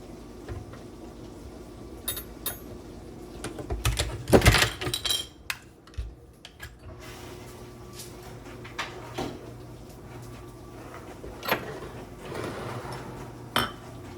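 Yogurt mixed with strawberries and a powdered supplement is stirred in a bowl with a spoon, giving scattered scraping clinks and taps against the dish, one louder clatter cluster near the middle, with quiet room tone and no talking.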